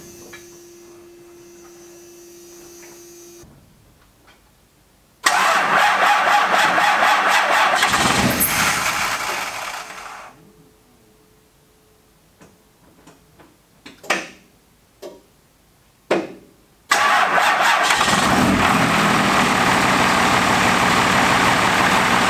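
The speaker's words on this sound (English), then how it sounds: "last time I cold started, it started up awesome" A Cummins diesel dually truck cranks and fires in a cold start, roaring loudly, settling, then shutting down; after several short sputtering bursts it cranks again and catches with another loud, sustained run, preceded by a faint electrical hum.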